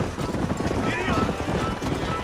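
Hooves clip-clop in a steady galloping rhythm as a horse runs in the video game Red Dead Redemption, with a busy, dense background mix throughout.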